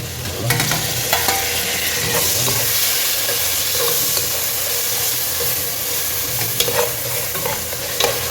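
Whole spices fry in mustard oil and ghee for beef biryani, a loud steady sizzle with stirring scrapes and occasional clinks from the pan throughout.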